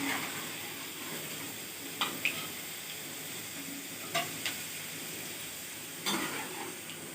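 Bitter gourd (karela) frying in hot oil for karela keema, a faint steady sizzle with three brief bursts of louder spatter or stirring clinks, no voices.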